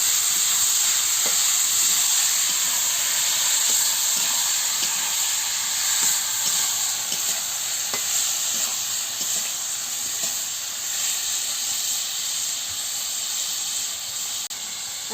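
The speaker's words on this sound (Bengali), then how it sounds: "দিয়ে ভালো করে নাড়িয়ে নিচ্ছি।" Bottle gourd frying in a pan while being stirred: a steady, close sizzling hiss runs throughout, broken by light scraping ticks from the stirring, with no voices.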